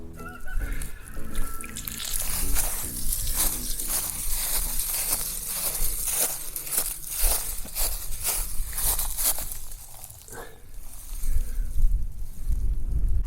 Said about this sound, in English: I will continue watering the trees and shrubs that are here behind me everywhere, directly from the garden hose